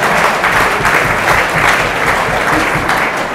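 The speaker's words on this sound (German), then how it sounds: "da gibt es zu Recht Applaus" A crowd at a fan talk after a Munich football match applauds loudly and steadily, dense clapping filling the whole stretch without pause.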